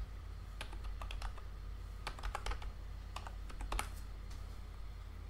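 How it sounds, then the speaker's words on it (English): Text is typed on a computer keyboard in quick, quiet clusters of crisp key clicks with short pauses between words, heard close and alone. "Let's say I want to type Rockstar Photography."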